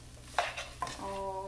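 Garlic fried rice with bacon is stirred in a pan, a couple of short scraping strokes over a soft steady sizzle, close and fairly quiet, with a faint tonal hum near the end.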